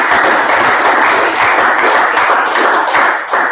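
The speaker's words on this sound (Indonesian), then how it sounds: "tepuk tangan dulu teman-teman." Audience applause after a panel discussion on a televised talk show, steady dense clapping from a room of people filling the whole stretch at close range.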